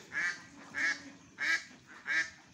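Ducks on a duck farm give four evenly spaced, nasal quacks, fairly close and moderately loud, with quiet gaps between each call.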